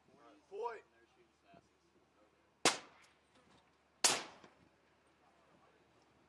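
Two sharp, loud rifle shots from an M40 sniper rifle on a live-fire range in Kuwait, about a second and a half apart, each with a short decaying tail, with people talking at moments between them.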